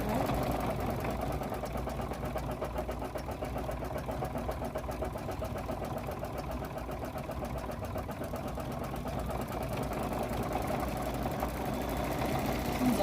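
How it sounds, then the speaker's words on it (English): A sewing machine stitches a small quilted mug rug, running continuously with a fast, even mechanical rattle, close by and steady throughout. "There's a lot of stitching."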